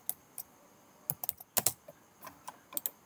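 Scattered keystrokes on a computer keyboard, a dozen or so crisp close clicks in short bursts separated by quiet gaps, with no voice.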